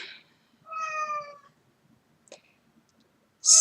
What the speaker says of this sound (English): That's my roommate's cat.